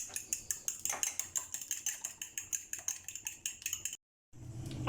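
Eggs whisked with salt and black pepper in a bowl, a fast, steady run of clinking taps from utensil against the bowl, close and fairly quiet, stopping briefly near the end.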